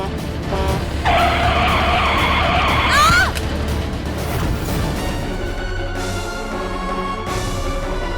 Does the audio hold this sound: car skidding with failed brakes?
yes